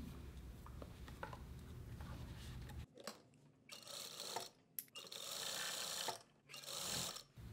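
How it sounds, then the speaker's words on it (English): Sewing machine stitching a quarter inch in from the edge of a fabric strip for a dupatta, a rapid mechanical whirring in close bursts with short stops between runs. "I'm sewing at 1/4 inch in from the edge"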